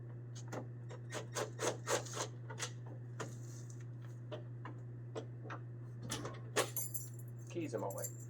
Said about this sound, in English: Keys in my way.